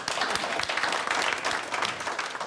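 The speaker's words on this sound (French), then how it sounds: "On peut s'applaudir déjà." A group at a social carnival in Bailleul applauds itself, bursting into loud, close, dense clapping that runs steadily through a short stretch with no pause.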